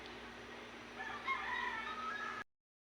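A rooster crows in the distance over a steady background hum, one drawn-out call lasting a little over a second.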